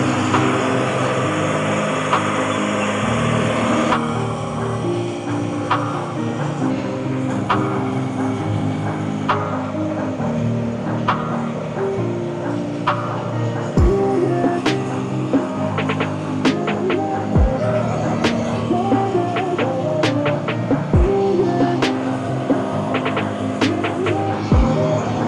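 A small engine-driven tiller churns soil in a deer food plot, its motor droning continuously at close range with occasional sharp clicks and knocks from the tines hitting the ground, and no talking over it.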